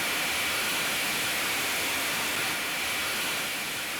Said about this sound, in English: you're going to have to vent some steam out the safety valves